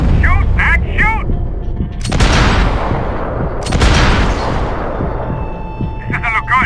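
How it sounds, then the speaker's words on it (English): Gunfire in the Max Payne 3 video game: loud bursts of shots and booming blasts come in waves, with shouted voices in between. "Shoot, Max, shoot!"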